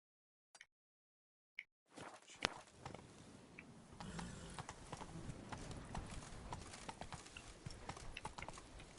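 Rhythmic clip-clop of horse hooves at a steady gallop in The Witcher 3, starting after a few sharp clicks and continuing loud and close over rumbling ground noise, with no talking.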